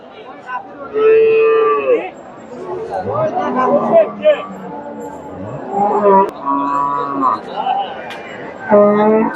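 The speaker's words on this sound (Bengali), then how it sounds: "বাচ্চাটা চমৎকার একটা বাচ্চা গাভীটা যত বড় বাচ্চাটাও মাসাল্লাহ একের বাচ্চা" Dairy cow and calf at Chandaikona cattle market low, drawn-out moos repeating several times, close and loud over a steady hubbub of market chatter and voices.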